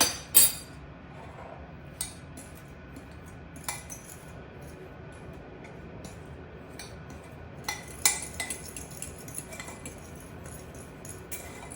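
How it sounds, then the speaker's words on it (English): A fork stirs a dry spice mix of ground mustard and Cajun-style seasoning in a dish, giving faint scattered clinks and scrapes against the container with quiet pauses between them. "I'm gonna get a fork to stir this up because that ground mustard kind of gets clumpy."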